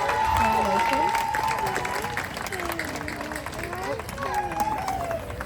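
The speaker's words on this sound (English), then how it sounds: "please give them a round of applause." A crowd at a hula show cheers young dancers on stage, with loud applause mixed with whoops and excited voices calling out, strongest at the start and easing slightly before swelling again near the end.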